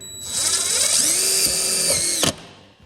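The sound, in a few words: hammer drill driving screw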